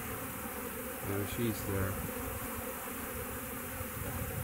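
Swarming honeybees fanning at the entrance of a green hive give a steady, close buzzing drone with short bursts of louder wingbeats, while a voice speaks briefly over it.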